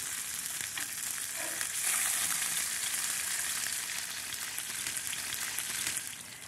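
Salmon fillet searing skin-side in a hot pan, a steady dense sizzle that fills the whole stretch, close and fairly loud, alone with no talking over it.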